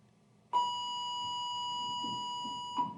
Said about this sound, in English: Sorry about that bell.